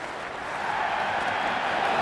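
Cricket crowd applauding and murmuring in the stands during a run chase, a broad steady wash of clapping that builds slightly louder and stays sustained, heard from a distance.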